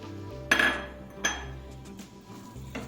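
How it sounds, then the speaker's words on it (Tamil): Metal utensil clinking and scraping against a pan while rava ladoo ingredients with cardamom powder are mixed, three distinct clanks spaced over a low steady background hum. "இப்போ இது எல்லாத்தையும் கொஞ்சம் ஸ்டவ்வில் லைட்டாக ஹீட் பண்ணி நல்லா மிக்ஸ் பண்ணிக்கலாம்"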